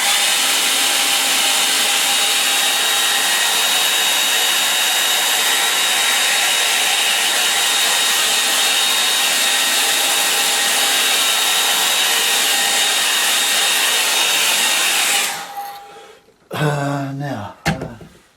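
A hair dryer blows on a watercolour line-and-wash snow scene, a loud, steady whoosh for about fifteen seconds before it switches off, followed by brief talking.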